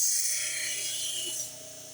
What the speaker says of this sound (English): Natural stones are really hard to grind